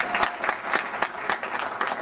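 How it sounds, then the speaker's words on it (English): A small audience claps for a volunteer being called up at a magic show, a short burst of steady, fairly close applause with a clear rhythmic pulse of hand claps, no talking over it. "Let's give Mr. Klaus a round of applause"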